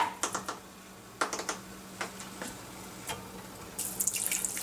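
Water runs from a tap into a cooking pot for Mexican carnitas, a splashing stream with a few brief clatters and a louder rush toward the end, close by with no talk.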